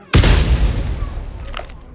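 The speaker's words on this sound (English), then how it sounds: "And every day here, the famous 1 o'clock gun still fires." Edinburgh Castle's one o'clock gun fires: a single sharp, loud cannon boom that rolls into a long fading echo, with a faint voice just after.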